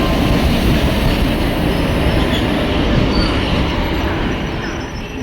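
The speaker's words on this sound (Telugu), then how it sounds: "on board train number 57411 Guntakal Bodhan passenger ట్రైన్లో జర్నీ చేస్తున్నాము" On board the Guntakal–Bodhan passenger train 57411 leaving Kurnool, a loud, steady rumble of wheels on rails fills the carriage, with a constant roar and squealing metal and no talk.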